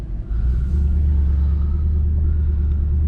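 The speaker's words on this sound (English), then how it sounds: "So I want you to listen to the engine" Stock 4.2-litre V8 of a 2009 Audi R8 while driving, a steady, deep engine rumble heard from inside the car, loud and continuous with only slight variation in pitch.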